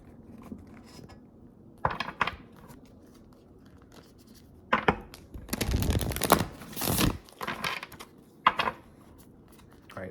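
Tarot cards being shuffled and pulled during a reading: several soft papery bursts of riffling and sliding, with a longer dense flurry of card shuffling near the middle, fairly close and alone.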